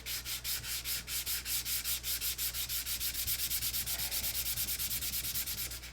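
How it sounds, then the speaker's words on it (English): Hand sanding of a wood finish, with fast, steady back-and-forth scratchy strokes repeating evenly for several seconds, close and clear without any voices. "And the only way you can get that is with all this sanding."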